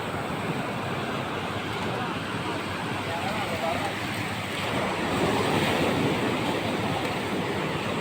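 Continuous roar of surf and wind, waves washing in steadily with a slight swell midway, voices faintly present underneath.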